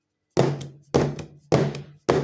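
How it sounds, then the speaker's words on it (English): A cake pan holding eggless vanilla batter is tapped against a surface to release air bubbles. Four hollow thuds land about half a second apart, close and fairly loud, each with a short ringing tail. "the next is to tap for air bubbles"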